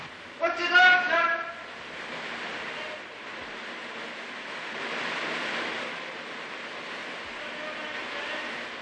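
Water rushes and sprays inside a cave as a steady roaring hiss, with a short burst of muffled voices near the start.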